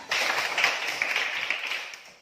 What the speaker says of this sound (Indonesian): mari berikan tepuk tangan aplaus